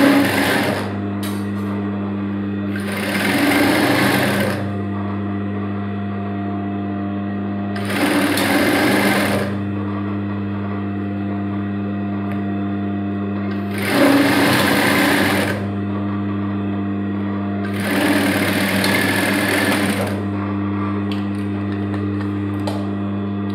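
A sewing machine stitches the leg seam of trousers being narrowed from the knee down, running in four loud bursts of rapid whirring separated by pauses where a steady low motor hum continues, close by with no speech.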